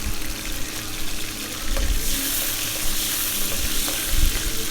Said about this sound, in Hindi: बहुत ज़्यादा देर तक नहीं फ्राई करना है। साथ ही डाल देंगे 3 सब्ज़ मिर्च।